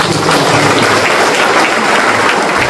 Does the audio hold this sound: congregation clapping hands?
yes